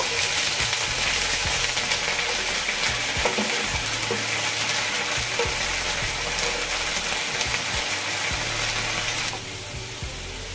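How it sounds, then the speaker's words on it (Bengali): Onion paste fries steadily in a pan, a dense continuous sizzle with occasional scraping and stirring clatter, close and loud with no talk. "পেঁয়াজগুলোকে খুব ভালোভাবে কষিয়ে নিব।"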